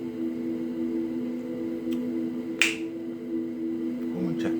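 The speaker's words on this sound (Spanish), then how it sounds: "Con un chasquido de dedo." A single sharp finger snap rings out close and clear over a quiet hum, with a fainter click shortly before it.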